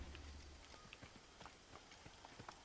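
A horse gallops up in the Assassin's Creed video game, its quick, rhythmic clip-clop of hooves faint and steady throughout.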